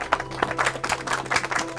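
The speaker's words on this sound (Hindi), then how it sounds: "ताली बजाइए।" Several people clap in a quick, uneven rhythm of distinct slaps at moderate volume, with a low hum running underneath.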